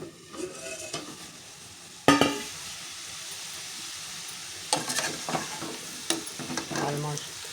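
Spicy karam fry cooking in a pan, with loud sizzling bursts and stirring scrapes that come in uneven waves, and a quieter stretch between them.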